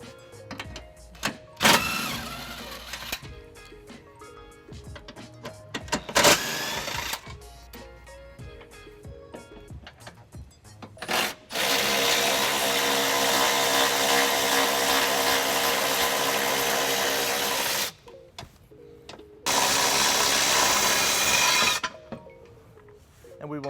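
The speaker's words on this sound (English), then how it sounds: "We're going to remove those using an 18mm socket." Power tool or socket wrench work on 18mm tow hook bolts under the frame rail of a 2016 Infiniti QX60, with sustained loud whirring bursts of several seconds separated by clanks and quieter handling noises.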